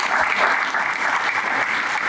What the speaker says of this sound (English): I think we all owe a round of applause to